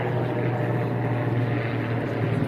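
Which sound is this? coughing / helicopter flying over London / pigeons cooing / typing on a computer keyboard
helicopter flying over London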